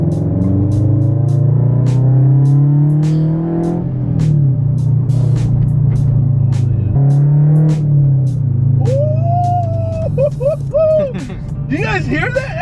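A Subaru BRZ's exhaust rumbles loudly and steadily at close range, its deep drone swelling and dropping through several revs while people talk over it.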